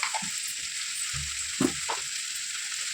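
Okra frying in a pan for a green-chili okra curry, giving a steady, close sizzling hiss with a few soft stirring scrapes and light clicks throughout.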